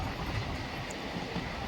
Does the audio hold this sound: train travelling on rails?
yes